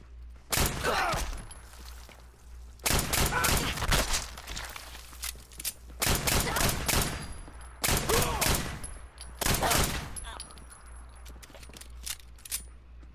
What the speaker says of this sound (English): I think the gun sounds perfect.